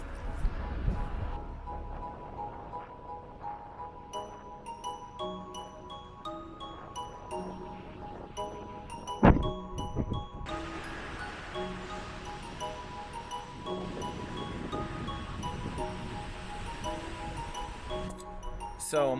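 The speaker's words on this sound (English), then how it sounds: "The wind is absolutely whipping outside." Strong wind whips and gusts around a tent, a rough, uneven broadband rushing with surges and one sharp flap, while scattered tonal pings sound faintly in the background.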